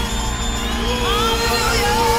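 A live concert audience at a Christian revival music event lets out a sustained shout of cheering, a broad crowd roar with sung or held tones rising over it.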